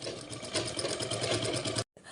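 A sewing machine runs steadily, stitching a fall onto a heavy work saree, with a continuous loud whir that stops abruptly near the end before briefly restarting.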